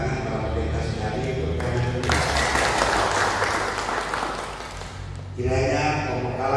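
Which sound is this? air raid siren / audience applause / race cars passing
audience applause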